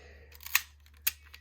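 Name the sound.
110 film camera shutter cover sliding open, priming shutter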